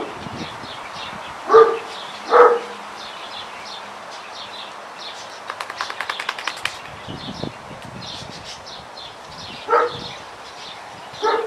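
A dog in a garden barks in a few sharp, separated bursts at an iron object, with a brief rattling scrape in between and quiet outdoor background.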